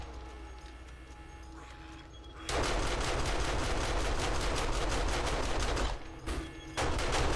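Sustained rapid automatic turret gunfire in 7 Days to Die, a dense rattling burst that starts abruptly after a quieter ambient lull, runs loud and steady for several seconds, briefly stops, then resumes.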